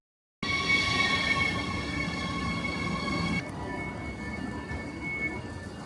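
A regional train running from Bamberg station toward Coburg, a loud close rumble of wheels on rails with steady whining tones that shift partway through as the ride carries on.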